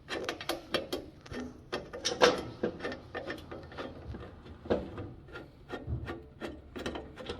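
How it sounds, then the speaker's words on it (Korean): A screwdriver turns screws through mounting holes while setting up an F-9440 unit, giving close, continuous rasping and ratcheting scrapes in repeated strokes. "이 밑에 쪽에 있는 구멍 두 개를 드라이버를 통해서 체결을 해 주시면 됩니다"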